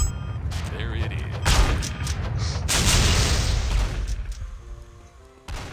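Rocket launcher blasts from the video game Postal 2 boom in heavy bursts with rumbling, crackling debris, loud and dense, then fade before one final sharp hit.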